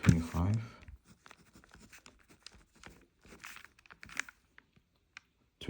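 A pen writing by hand on paper during discrete math homework, giving faint, scattered scratches and taps between short pauses, with someone speaking briefly at the start.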